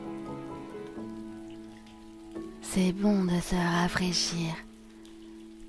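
Light, fine rain patters softly beneath gentle sustained musical tones, while a calm voice speaks over it midway.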